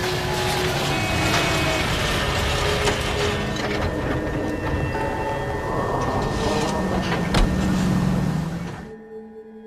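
Car driving in the L.A. Noire video game, a continuous engine rumble with tire and road noise holding steady for several seconds before cutting out abruptly near the end.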